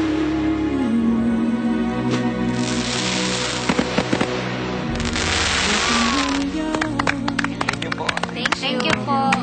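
Fireworks crackle and pop repeatedly at a Hundred Islands reunion celebration, a dense run of sharp bangs over music and cheerful voices talking throughout.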